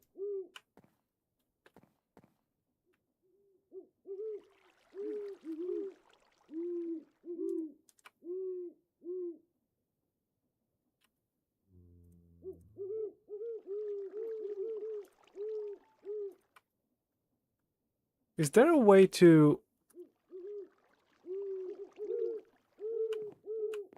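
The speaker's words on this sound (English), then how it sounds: "Are those owls?" Owls hoot in Minecraft, repeated soft low calls in short rhythmic runs spread across a quiet stretch, with a brief burst of another sound midway and a person speaking briefly.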